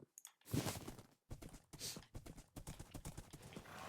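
Horse hooves clip-clop in the Minecraft video game, a run of crisp, close, moderately loud hoofbeats in an uneven walking rhythm after a few brief knocks, with no talk.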